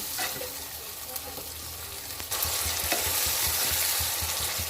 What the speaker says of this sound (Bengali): এটাকে ভালো করে কষে আমি জল দিয়ে দেবো।